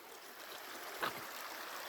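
The West Fork of Eagle Creek flows below a trail at Settlers Grove, heard as a steady, moderately distant rush of water with a brief soft bump partway through.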